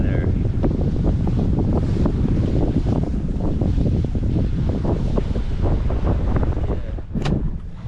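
Sailboat under way at about six knots in nice weather, steady wind buffeting the microphone over rushing water and splashing waves, close and loud without pause.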